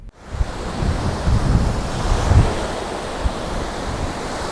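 Strong gusty wind buffets the microphone over a continuous wash of breaking waves on a Lake Michigan beach at Montrose Beach, Chicago, loud and close, with no voices.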